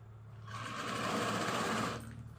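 A sewing machine runs in a short burst, stitching a rice bag: a quick, even mechanical whir that rises, holds for about a second and a half, then stops, close but not loud, with no talking.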